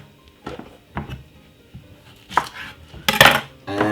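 Cooked rice is scraped into a bowl with a utensil, giving a string of short clinks and scrapes that build to louder, busier contact near the end.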